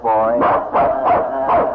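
A dog barks repeatedly in an old-time radio drama, several close, loud woofs in a quick uneven run mixed with a man's spoken line.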